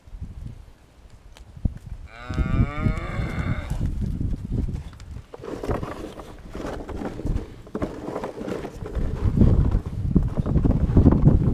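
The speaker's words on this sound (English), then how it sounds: "So as I was saying before I got rudely interrupted by the cows," Cows mooing near a garden, a long drawn-out low moo followed by more lowing and rustling farm background, fairly close and clear with no talking.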